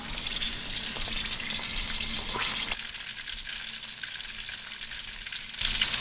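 Green chiles and garlic frying in hot oil, a loud continuous sizzle and crackle that drops in intensity partway through, then flares up again at the end.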